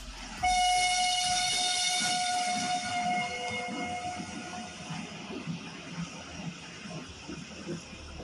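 A train running from Mariupol port toward Volnovakha station sounds a long, loud horn blast, then rolls on with a steady rumbling clatter of wagons, close by and with no talking.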